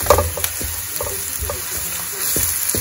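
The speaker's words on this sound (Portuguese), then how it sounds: "Aqui eu coloquei cebola raladinha, alho picadinho, óleo de oliva, vou deixar dourar." Grated onion and minced garlic fry gently in olive oil, a soft, low sizzle broken by a few light knocks of a utensil against the pan.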